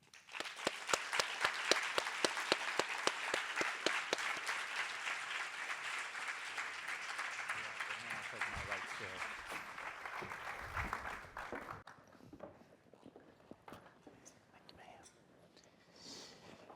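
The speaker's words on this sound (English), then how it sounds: "Let's give a round of applause for our panel." An audience applauds a panel at an evening public discussion event, loud dense clapping for about twelve seconds that gradually thins into scattered claps and a murmuring crowd.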